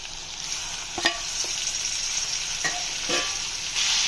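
Tomato pieces with turmeric stirred in a pan, a few soft scraping and clinking strokes over a steady background sizzle.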